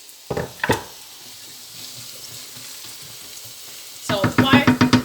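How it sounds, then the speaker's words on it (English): Peppers and onions fry in a pan with a soft, steady sizzle, broken at the start by two clattering knocks and at the end by a quick run of chopping or stirring clacks. "while the peppers are frying"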